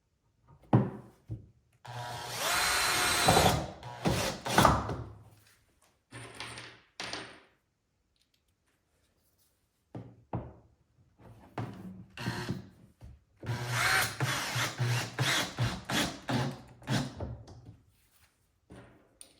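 A power drill drives screws into a cedar Adirondack chair kit in several loud, whirring bursts separated by short pauses, with woody knocks and handling noise between runs.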